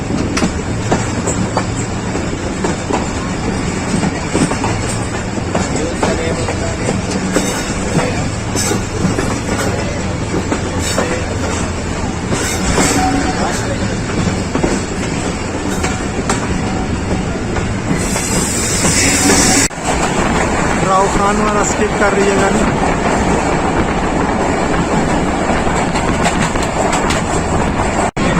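A Pakistan Railways express train runs on a branch line toward Kasur Junction, a steady rumble with clickety-clack wheels and a brief hissing squeal midway, heard from on board with a faint voice.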